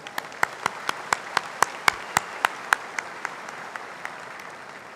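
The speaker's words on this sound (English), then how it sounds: "Another round of applause for our performers." Steady, evenly spaced claps ring out one after another, sharp and close, slowing slightly and fading toward the end, as a university graduation ceremony audience applauds performers.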